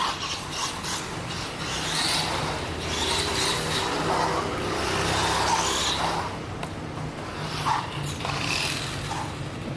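A JJRC Q39 Highlander four-wheel-drive RC car driving and drifting on a surface: a continuous close whine of the electric motor with gritty tyre rubbing and scraping that swells and fades, no voices.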